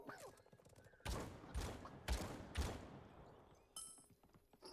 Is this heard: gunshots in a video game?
yes